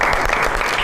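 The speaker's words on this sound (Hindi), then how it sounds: "बहुत सारी तालियों में वेलकम करते हैं जनाब" Loud, dense applause from a studio audience on a Pakistani comedy talk show, a continuous burst of clapping with no voices over it.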